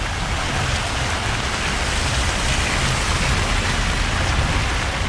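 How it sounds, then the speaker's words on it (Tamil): Heavy monsoon rain pours down in Murdeshwar, a dense, loud and unbroken roar of falling water that stays constant throughout with no voices. "மழை, செம மழை"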